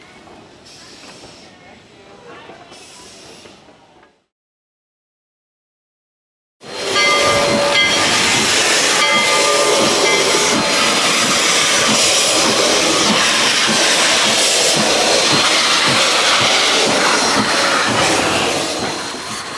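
A narrow gauge Denver and Rio Grande steam train hisses loudly and steadily with a whistle tone running through it, after a brief stretch of other sound and a short silence.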